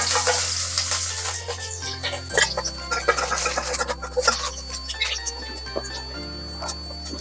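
Chopped garlic with mustard seeds and cumin frying in a pan for a cauliflower paratha dish, a steady close sizzle with scattered pops and stirring scrapes over a low background hum.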